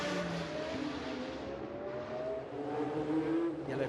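GT race cars in timed qualifying at Baku, engines droning and shifting pitch as they run past on the street circuit, a steady layered roar with no talk.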